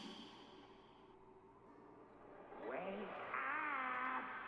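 A cat meows in the video game Kumitantei, drawn-out and wavering, rising over a faint steady background hum, with no talking.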